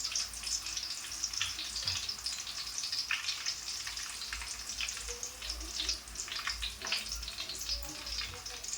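Potato chips frying in a pan of hot oil, a steady, dense sizzle with crackling bursts that holds at an even level throughout, close and alone without any voices.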